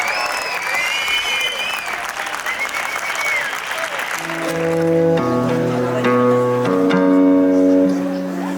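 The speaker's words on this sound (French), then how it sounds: "On peut l'applaudir bien fort" Concert crowd applause with cheers and whistles for about four seconds, then fading as a guitar starts plucking tuning notes and chords while the clapping thins out behind it.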